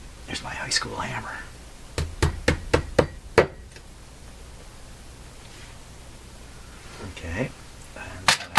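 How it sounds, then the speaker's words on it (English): Sharp hammer taps from an old high school hammer striking in a quick series of about six close, loud blows, with speech before and after in a workshop setting while restoring a Canadian Spartan Model 5542 radio. "There's my high school hammer."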